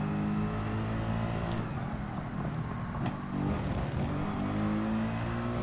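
A Mercedes-AMG GT3 race car's engine in Gran Turismo 7 drones and revs steadily at high load, a constant loud harmonic roar running through the whole stretch.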